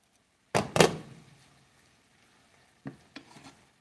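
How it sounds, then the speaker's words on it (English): A spoon scrapes and stirs seasoned greens in a hot pan, two loud close bursts of stirring followed by a quiet gap and then two softer scrapes, with a faint sizzle underneath. "stir it up a little bit"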